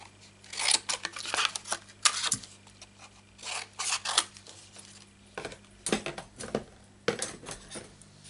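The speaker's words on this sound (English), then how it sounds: "And what I do is cut them in strips." Scissors cutting punched paper vase shapes into strips for a Stampin' Up card project: quiet, close snips and rustling paper in irregular bursts, with no talking.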